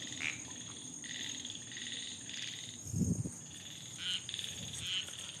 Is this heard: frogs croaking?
yes